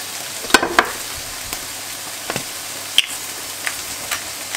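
Grilled vegetables stirred in a pan for a barley salad, a soft steady sizzle with a few scrapes and clicks of the utensil near the start and scattered light taps afterwards.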